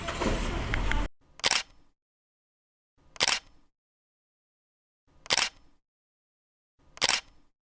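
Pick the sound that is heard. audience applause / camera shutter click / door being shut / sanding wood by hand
camera shutter click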